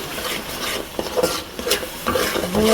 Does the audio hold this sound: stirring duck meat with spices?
yes